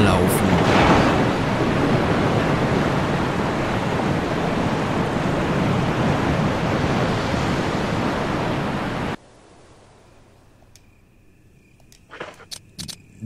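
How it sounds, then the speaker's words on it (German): A waterfall in the Resident Evil remaster on PS4 gives a constant broad rushing roar for about nine seconds, then cuts off to near silence with a few faint clicks. "Sie hören das entfernte Rauschen des Wasserfalls."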